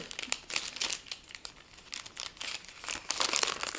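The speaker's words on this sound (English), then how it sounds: "Crinkle, crinkle, crinkle, crinkle." Plastic packaging for cross-stitch supplies crinkled and handled up close, a continuous crackly rustle with sharper crackles toward the end.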